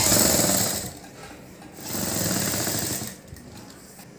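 A sewing machine stitches the lining and main cloth of a blouse together as one seam. The motor whirrs steadily and close, rising and falling in speed over a few seconds, and no talk is heard.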